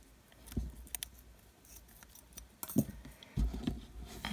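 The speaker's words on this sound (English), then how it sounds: "I'll just trim that down because that's not going to get through" Scissors trimming the cord of a Chinese good luck knot with tassel, a few crisp close snips spaced irregularly, with soft handling rustle between cuts.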